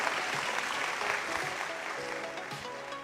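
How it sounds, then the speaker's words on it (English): Audience applause at a science and engineering fair award ceremony, a steady wash of clapping that fades slightly over about three seconds with faint music or tones underneath. "Give everybody a round of applause."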